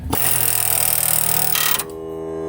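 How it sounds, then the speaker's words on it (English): An air hammer rattles continuously for nearly two seconds against softened rubber on a Ford Ranger being restored, loud and close, then cuts off, leaving a steady hum. "we're going to take our air hammer here, and we're going to see if it'll just push this out"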